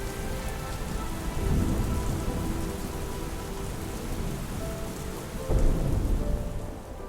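Heavy downpour in Switzerland pours steadily as dense broadband hiss, with low rumbles of thunder swelling twice, close and enveloping, no voices.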